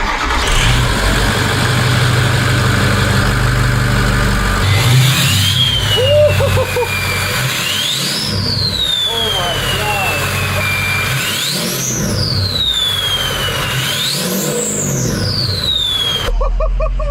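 A car engine fitted with a cold air intake cranks and catches, settling into a low, rumbling idle, then is blipped several times in rising, whining revs.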